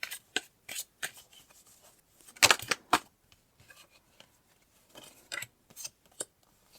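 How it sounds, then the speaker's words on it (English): Tarot cards being shuffled by hand, a series of brisk riffling bursts and soft slaps with short pauses between them, close and clear with no talk. "I'm going to shuffle."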